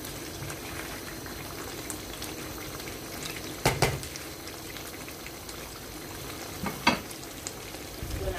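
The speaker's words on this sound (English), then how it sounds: "Salt to the stew, and we give it a stir." Gizzard stew with vegetables being stirred in a pot, giving a steady low simmering bubble with a couple of louder spoon knocks against the pot partway through. No one speaks.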